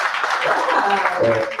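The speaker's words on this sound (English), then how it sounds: "applaudissez pour ceux qui sont dans la barre" Audience applause at a launch event in Cameroon: steady clapping from a crowd throughout, with voices mixed in.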